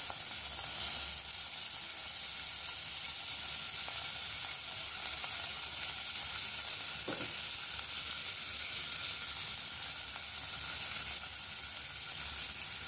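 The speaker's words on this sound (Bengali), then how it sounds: "এতে আমি অ্যাড করব চিংড়ি মাছ, আর অ্যাড করব পেঁয়াজ" Shrimp and onions fry in a little oil for Thai soup, a steady loud hiss and crackle of sizzling throughout with one brief stir, no voices.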